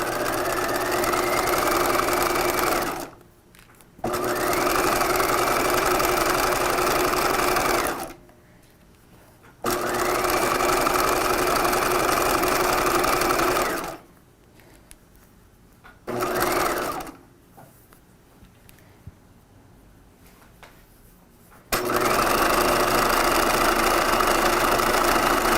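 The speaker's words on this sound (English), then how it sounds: "And I'm going to keep stitching here until I get to the other back edge." Sewing machine stitching a 1950s shelf-bust dress, running in long steady whirring bursts broken by short pauses, close and loud, with no talking.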